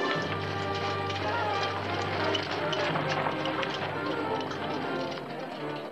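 A horse-drawn coach speeds off, hooves clattering in a rapid running rhythm with wheels rumbling, layered under dramatic music and voices in a dubbed Zorro episode.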